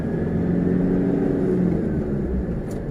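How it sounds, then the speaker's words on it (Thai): A manual pickup truck accelerating up the top level of a shopping mall car park, its engine a steady low rumble heard from inside the cab, with no talking. "น้องแชมป์เร่งคันเร่งครับจะฝึกเปลี่ยนไปเกียร์สองกันนะ"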